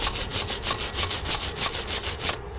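Wire brush scrubbing a fresh weld made with a SIP Weldmate 100 amp welder on a Kubota mini digger, heard as a rapid, regular back-and-forth rasp of about a dozen strokes, close and loud with no talk.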